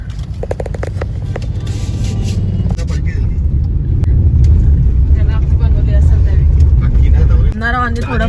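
Road traffic in a jam on the way to Daman, a loud continuous low rumble of engines from inside a vehicle, with people talking over it and a brief horn-like tone near the end.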